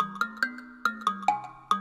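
A mbira plays a gentle, plucked melody, each metallic tine note ringing and decaying as the next one sounds in an uneven rhythm.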